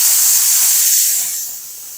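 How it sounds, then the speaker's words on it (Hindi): Steam hisses out of a pressure cooker as its pressure is released, a loud, steady, close rush of vapor that begins to fade toward the end. "कुकर का जो प्रेशर है वो हम सारा निकाल देंगे"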